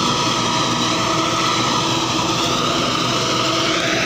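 A Mahindra Arjun 655 tractor drives along with a trolley, its engine a loud, constant diesel roar and buzzing hum that stays level throughout, close to the listener.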